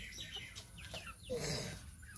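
Chickens cluck in short, soft bursts at a little distance, with a few scattered calls across a steady quiet background.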